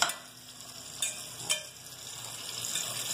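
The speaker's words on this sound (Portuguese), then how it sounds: "Enquanto isso, o bacon já está ali, quase fritinho." Bacon frying in a pan, a steady soft sizzle with a few sharp clinks and taps of a utensil early on, close and moderately quiet.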